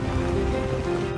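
Steady rain pattering on a surface, a dense even hiss with a low rumble underneath, no voices.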